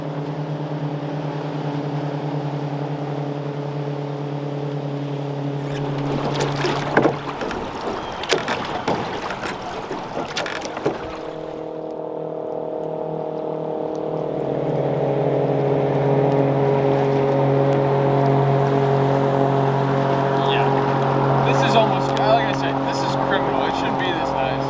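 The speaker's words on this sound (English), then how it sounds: "the number of jet boats trying to make their way back to their respective lodges for lunch made the river an absolute wave pool" Jet boats motor along an Arkansas trout river, a steady droning engine hum with harmonic whine that drops out briefly amid clattering and splashing noise, then returns and builds again, fairly close and loud.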